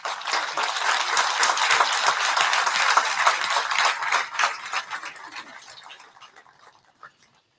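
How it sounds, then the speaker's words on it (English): Crowd applause for young flag bearers at a peace officers memorial run, a dense burst of clapping that thins out and fades to a few last claps near the end. "They deserve a big round of applause."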